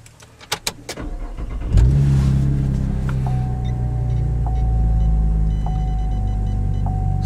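Cabin view of a 2010 V6 Camaro with an aftermarket MRT exhaust starting up: a few clicks, a brief crank, then the engine catches with a loud flare and settles into a steady, deep idle rumble.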